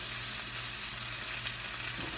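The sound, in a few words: lemon butter sauce boiling in skillet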